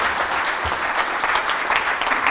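An audience at a sales summit gives a round of applause, steady dense clapping filling the room throughout with no voices over it.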